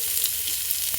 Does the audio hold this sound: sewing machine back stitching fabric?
no